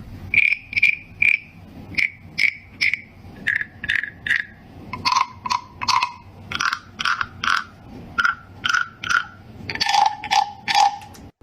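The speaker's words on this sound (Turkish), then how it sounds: "Sırtına o elindeki aletle vurduğu zaman gerçek kurbağa sesi çıkarıyor biblo kurbağalar" Repeated ratcheting croaks in pairs and triplets, a wooden frog rasped with a stick, crisp and close, with short pauses between groups.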